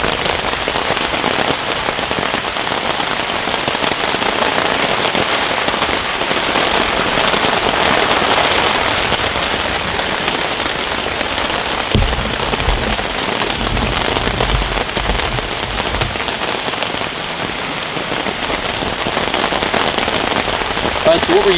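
Heavy rain pours steadily at a campsite, a dense, loud, unbroken patter on surfaces nearby, with a brief low thump partway through.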